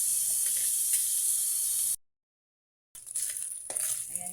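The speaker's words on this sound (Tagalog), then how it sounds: "igisa lang natin ito ng konti lang" Meat being sautéed in hot oil in a pan, a loud steady sizzle close by that cuts out for about a second, then resumes with stirring scrapes.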